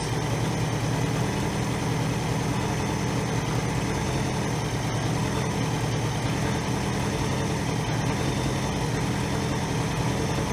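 A 1982 Honda GL1100 Goldwing engine with a single-carb conversion idles steadily after a carburetor adjustment, a close, continuous mechanical rumble with a faint rhythmic pulse and no talking over it.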